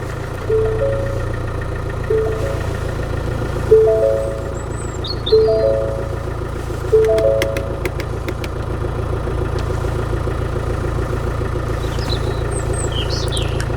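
A Ford Transit 350 van with an 8-speed automatic idles in reverse while its parking sensors beep in a regular series of short tones over the steady engine hum, with no one speaking.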